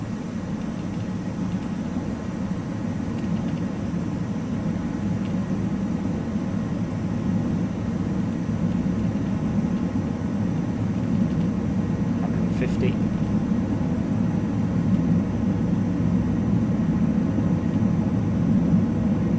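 BAE Hawk jet of the Red Arrows rolling into takeoff, a steady loud turbine roar and rumble that builds slightly over the run, with a pilot speaking over it.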